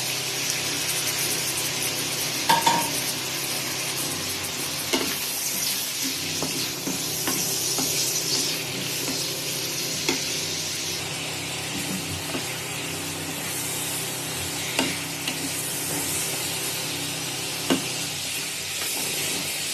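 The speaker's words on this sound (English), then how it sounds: "we are going to slightly fry the mutton in the ghee for roughly about 2 to 3 minutes" Mutton pieces frying in ghee in a pan for a mutton curry, with a steady hissing sizzle and occasional spatula stirs and knocks throughout, no talking.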